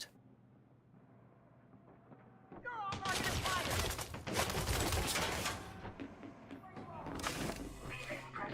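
Rifle fire heard from inside in the Elite Dangerous game: a quiet, murky start that gives way to a dense, loud stretch of rapid shots and mechanical clatter lasting several seconds.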